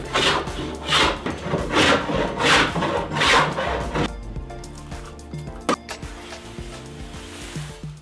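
Hand plane shaving wooden support posts, a series of rhythmic rasping strokes up close, about five passes, followed by quieter scraping and handling sounds.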